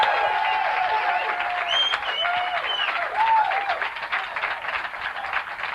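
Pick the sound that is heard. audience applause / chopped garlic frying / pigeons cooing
audience applause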